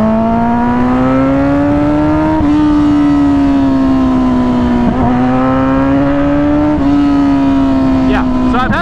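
A 1994 Honda CBR 900RR Fireblade engine holds a loud, steady, close-up drone, with its pitch rising and settling in a few gentle swells and brief dips, and no talk over it.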